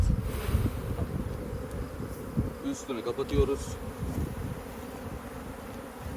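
Honeybees from a captured swarm at an apiary hum in a dense, steady buzz near a hive as it is being covered, with a person speaking briefly over the drone and some handling knocks.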